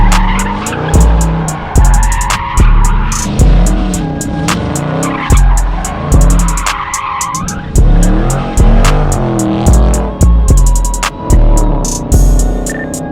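A 2020 Dodge Charger Scat Pack wide body slides sideways, its tires squealing in repeated loud bursts over a surging, revving V8 engine that rises and drops in rhythm, close up and continuous with no talking.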